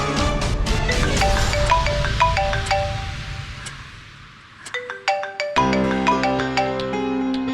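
A phone ringtone plays a bright melodic electronic tune, loud and close, with a short pause before the melody restarts; no one speaks over it.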